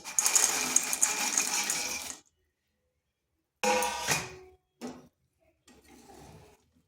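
Chushi pitha stirred in hot milk syrup, a burst of scraping and clinking against the pot followed by silence, then several shorter stirring bursts fading out.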